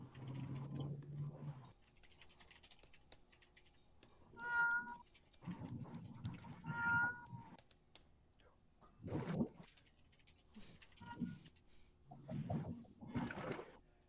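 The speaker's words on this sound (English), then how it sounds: "The way they're meowing, you'd think it's the end of the world." Several cats meow repeatedly, some drawn-out and plaintive, others short, coming close together in a quiet room.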